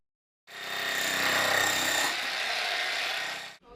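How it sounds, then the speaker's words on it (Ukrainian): A jackhammer breaking through concrete to reach a rotten heating pipe during a building repair, heard as a loud continuous hammering roar lasting about three seconds, close by, with no voices. "Треба працювати відбійним молотком і дістатися до неї."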